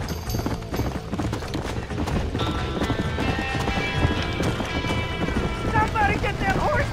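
In Red Dead Redemption, panicked horses flee a burning barn, with rapid clip-clop of hooves, whinnies rising near the end, and shouting voices mixed over the commotion.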